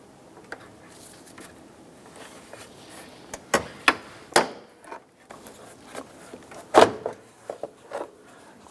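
Plastic front retainer buttons being pried out with a pry tool on a 2005-2009 Subaru Outback, heard as a few sharp, close pops and clicks spread through the clip over quiet background.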